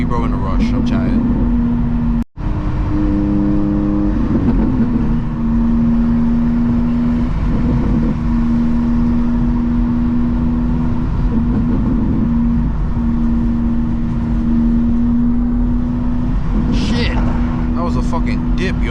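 BMW M2 GT3 with a full catless exhaust, heard from inside the cabin as a loud, steady engine drone with rising and falling revs and brief shifts, while people talk over it.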